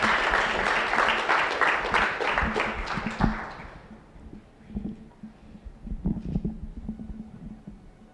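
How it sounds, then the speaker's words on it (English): At an official launch event, the audience applauds school children with a burst of dense clapping that lasts about three seconds and then dies away, leaving scattered thumps and quieter background sounds. "let's give a round of applause for the children present"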